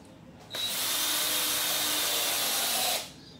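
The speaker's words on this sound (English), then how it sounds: "got your screws lined up, and you just go ahead and tap them in just below the surface there." A power drill drives a screw into a wooden table stringer on a DIY patio dining table with metal hairpin legs, a steady close whir lasting about two and a half seconds that starts and stops abruptly.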